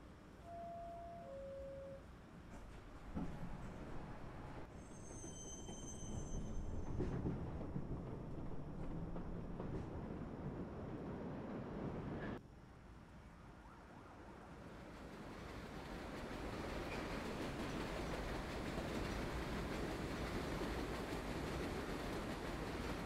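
A number 7 local subway train in the video game World of Subways 4 runs along the track, a steady loud rumble and rushing roar that drops briefly midway and then builds back up. Short electronic chime tones sound near the start.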